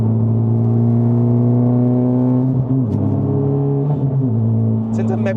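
A stage 2 tuned Honda Civic Type R FL5 drones with a strong, steady engine hum under load, its pitch dipping and rising briefly as the throttle shifts, heard from inside the cabin.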